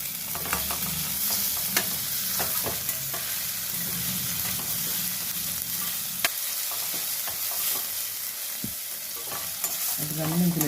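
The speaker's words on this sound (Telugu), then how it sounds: "ఇవన్నీ కలిపి బాగా వేగనిద్దామండి. కొంచెం సాల్ట్ వేస్తున్నాను ఉల్లిపాయలు మెత్తపడడానికి." Onions fry with a pinch of salt in a pan for a village-style okra and tomato gravy curry, giving a steady close sizzle broken by scraping stirs, with no talk.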